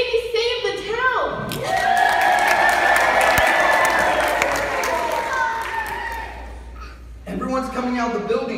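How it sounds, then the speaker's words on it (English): A crowd at a children's camp play cheers and applauds for the hero Davy, a sustained wash of clapping and excited voices rising quickly and holding, with speech before and after. "They're cheering for Davy and carrying him on their shoulders."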